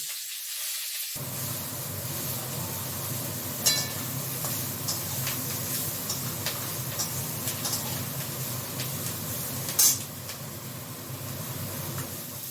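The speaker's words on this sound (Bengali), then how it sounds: "তারপরে এক ফোড়নে বসিয়ে দেবো জিরে দিয়ে" Cumin seeds tempering in hot oil, a steady broadband sizzle and hiss that runs nearly the whole time after a quiet start, with a couple of brief sharp spits or pops.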